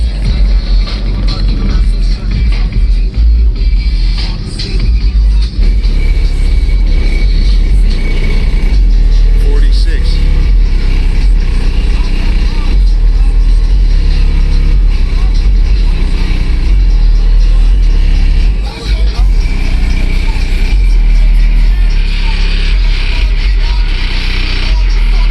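Heavy bass pounds from a car stereo running dual ZVX15 subwoofers at a car show, loud and continuous with booming low notes. Voices can be heard faintly beneath the bass.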